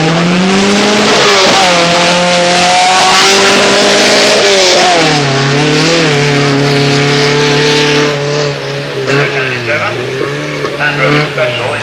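Rally cars in a competition safari at Mansell Lacey in 1987 rev hard at the start, loud and close, with rising and falling engine pitch as they pull away under a speaking voice.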